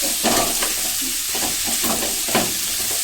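Okra frying in oil in a pan, a loud close sizzle broken by repeated stirring and scraping strokes, with no one speaking.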